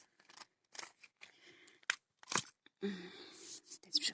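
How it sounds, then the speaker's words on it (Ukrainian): Pruning shears snipping dry shoots off a freshly dug plant root, a handful of crisp, crunchy cuts at irregular intervals, close up and otherwise quiet, with one longer rustling crunch near the end. "Беру секатор."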